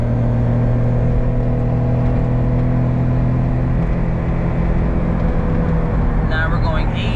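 A Honda Beat's small engine pulls hard in fourth gear, a loud steady droning note with strong low harmonics heard from inside the cabin, with a faint higher whir near the end.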